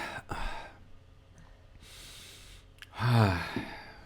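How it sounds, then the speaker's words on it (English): A person doing a morning breathing exercise for bad sinuses takes a few sharp nasal inhales and exhales, quiet and close, ending in a louder gasping breath. "let me do my breathing exercise for the morning"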